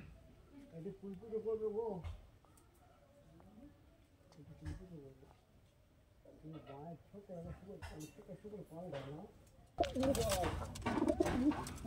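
Rampuri pigeons coo in a loft in several soft, throaty bursts of rising-and-falling notes separated by short pauses. A louder noisy rustle comes near the end.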